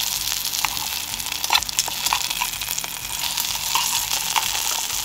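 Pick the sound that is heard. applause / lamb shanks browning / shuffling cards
lamb shanks browning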